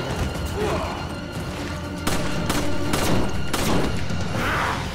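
Rapid bursts of gunfire and impact bangs from Resident Evil 5, dense and loud, with a couple of sharper blasts standing out over continuous noisy action.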